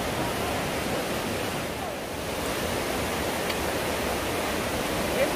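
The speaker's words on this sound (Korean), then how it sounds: "간에서 폭포입니다." Waterfall in a Jirisan mountain valley, a dense, steady rush of falling water that fills the scene evenly and continuously with no pauses.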